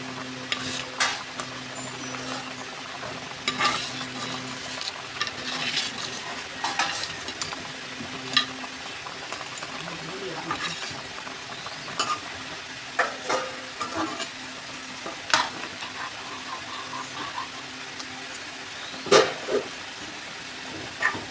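Snakehead fish pieces and heads frying in a pan, a steady soft sizzle under frequent scraping and clattering from stirring, close and moderately loud, with a low steady hum throughout.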